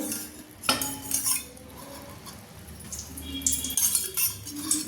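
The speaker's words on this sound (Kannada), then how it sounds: "ಒಂದೆರಡು ಸ್ಪೂನ್ ಎಣ್ಣೆ ಹಾಕ್ತಾಯಿದ್ದೀನಿ." A spoon clinks and scrapes against a heated kadai while a couple of spoonfuls of oil go in, with repeated close metallic taps and light rattling throughout.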